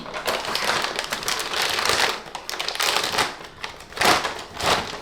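A Ziploc-style foil bag holding plastic filament spools being handled: loud, close crinkling and crumpling in uneven bursts, alone with no talking.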